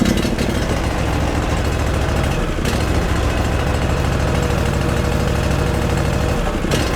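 Iseki 4x4 ride-on lawn mower engine running steadily close by, a loud continuous low chugging drone with a brief dip partway through and no talking.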